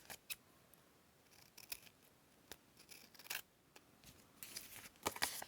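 Scissors snip paper during junk journal crafting, quiet close cuts arriving singly and in short clusters, with a busier run of snips near the end.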